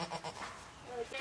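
A goat that gave birth about ten days earlier bleats a few times at close range on a farm, short wavering calls with some background noise between them.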